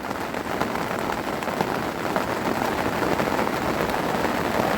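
Rain falling steadily on a lake in Cheshire, a continuous close hiss of drops on water and surfaces with no talk.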